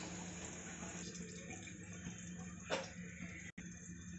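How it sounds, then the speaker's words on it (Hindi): Oil streams into a heated kadhai on the stove in a steady, continuous pour, soft and close, ending with a faint clink near the end. "अब इसमें मैं तेल डाल देती हूँ"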